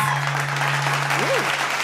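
Audience applause greets panelist Aaliyah at a green jobs symposium, a steady wash of clapping sustained through the whole moment with a constant tonal hum beneath and a brief rising-falling whistle-like tone near the end.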